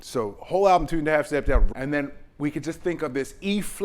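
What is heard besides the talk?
No everyday noises stand out.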